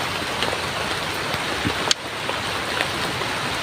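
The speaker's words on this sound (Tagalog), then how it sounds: "Hindi tayo masyado makakilos sa lakas ng ulan." Heavy rain pours steadily as a dense, even hiss close by, with a single sharp knock near the middle and no voices.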